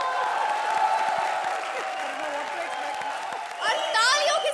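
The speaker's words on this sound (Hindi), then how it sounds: "a very big round of applause" Studio audience applause on a televised Hindi comedy show, Comedy Circus, a steady wash of clapping and crowd noise with a brief burst of cheering near the end.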